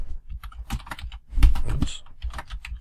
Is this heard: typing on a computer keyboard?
yes